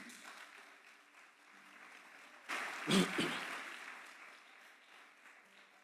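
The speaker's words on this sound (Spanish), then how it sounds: "Denle un aplauso a Dios." A church congregation breaks into applause midway, a brief swell of clapping that rises, peaks, and fades back into a low room murmur.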